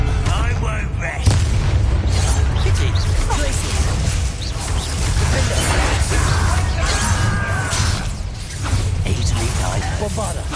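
Bombarda explosion spell cast in Hogwarts Legacy, heavy booming blasts and crashing impacts that rumble continuously through the fight, with a voice speaking over the din.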